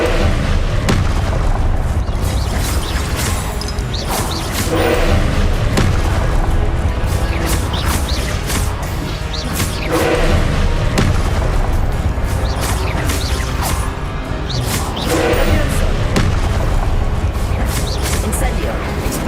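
Spell explosions go off in Hogwarts Legacy, heavy booming blasts and crashes repeating every few seconds over a constant loud game backdrop with a voice speaking throughout.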